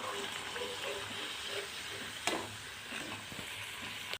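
Okra pieces frying in hot oil for a Tamil vendakkai fry, a steady close crackling sizzle with one sharp pop partway through and no voices.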